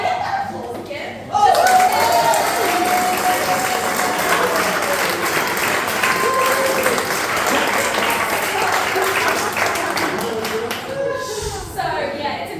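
An audience at a creative development showcase breaks into loud, sustained applause that starts abruptly and then fades, with light laughter and chatter near the end.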